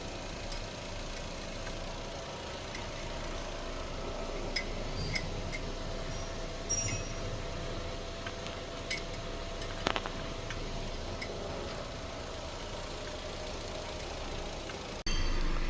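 A rebuilt car engine idles steadily at close range with a low, even hum and faint ticking from the valvetrain, continuing without change for over fifteen seconds.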